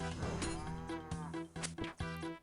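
A big cow boss in RuneScape lets out deep, drawn-out moos, several loud bovine calls back to back with short gaps, close and clear with no talking.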